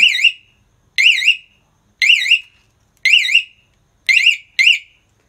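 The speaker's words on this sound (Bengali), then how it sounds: "এই টেবিলটা যদি একটু সামান্য জোরে নড়াচড়া হয় বা সামান্য টাচ হয় তাহলে দেখেন অ্যালার্ম বাজবে।" A bike anti-theft touch alarm gives six loud, sharp electronic warbling chirps, roughly one per second, the last two coming faster, with silence between them.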